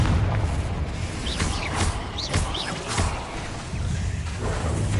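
Casting the Confringo spell in Hogwarts Legacy sets off several booming blasts in quick succession, each with a whooshing, crackling tail, over a busy background of combat noise.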